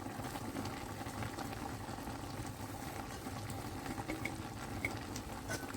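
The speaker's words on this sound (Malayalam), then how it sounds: "നമ്മളെ ഞണ്ട് കറി നല്ല തിളച്ച് വന്നിട്ടുണ്ട്" Crab curry boils in a pot, a steady close bubbling and gurgling with small pops, even in level throughout and heard alone without speech.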